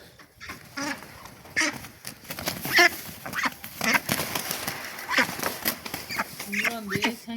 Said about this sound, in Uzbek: Mana o'zi g'aq deyapti.